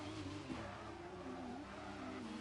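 Race car tyre screeching as the front right wheel locks up under braking at Bahrain, a wavering squeal laid over a steady loud engine drone throughout.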